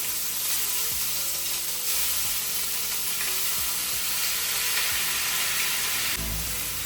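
Shirataki noodles fry with roasted garlic in a pan, a continuous close sizzle broken by the scrape and clack of stirring at intervals.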